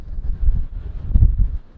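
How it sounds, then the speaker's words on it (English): Low, gusty rumble of wind buffeting a microphone in uneven surges, with no voices. "I apologize, it's really windy today."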